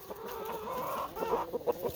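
Homestead chickens cluck softly and irregularly close by, a short run of quiet, broken calls over low background noise.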